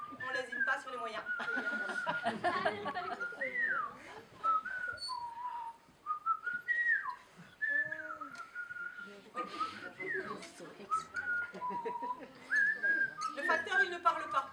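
A postman whistles a series of bright, sliding melodic phrases, loud and close, broken by short pauses, with chuckling and light laughter between phrases.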